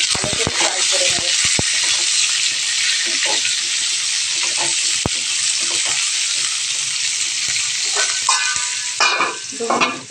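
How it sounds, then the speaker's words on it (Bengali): Food frying in a pan, a steady loud sizzle running throughout with repeated scraping stirs and clacks of a spoon against the pan, no talking. "2 মিনিট ফ্রাই হোক, 2 মিনিট ফ্রাই হোক।"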